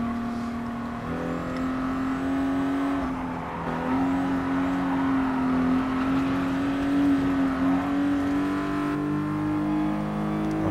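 A Toyota Supra RZ '97 drives around Willow Springs in Gran Turismo Sport, its engine a steady, loud drone with a sustained tone that rises and dips slightly as it holds speed, with no speech.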